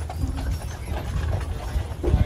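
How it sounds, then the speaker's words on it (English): Two taxi horses on Mackinac Island stand close by at a water trough, with soft hoof shuffles and clops over a steady outdoor rumble and no clear voices. "So there's 2 of the taxi horses getting a drink of water."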